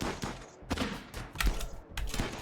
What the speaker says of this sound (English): we got a musket shot in